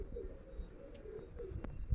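Girebaaz pigeons coo softly in low repeated murmurs, close and quiet, with a few light taps and rustles around them.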